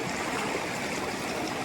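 A small mountain stream runs along a hiking path near Rio Cuale, making a steady, broadband rush of water that stays even, close and unbroken, with no voices.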